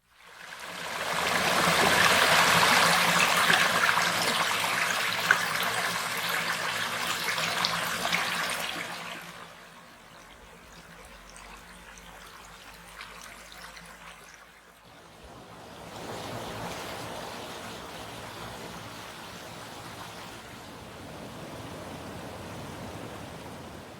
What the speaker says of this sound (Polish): Posłuchajmy więc, o czym szumi nasz strumek.